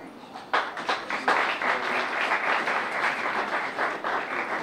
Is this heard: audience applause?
yes